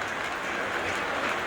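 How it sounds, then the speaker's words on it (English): An O gauge model train rolls along layout track, giving a steady, even whirring rumble with faint rhythmic clicks, fairly quiet and without talk. "Oh, here comes the other train."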